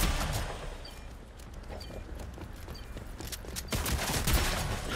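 Shotgun blasts in a video game firefight, several loud booming shots in quick irregular succession over a constant rumbling background.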